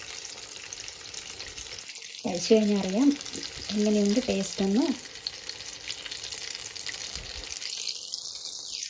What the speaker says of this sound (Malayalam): ചൂടെണ്ണയിൽ കിടന്ന് തിളയ്ക്കുന്ന സുഖിയൻ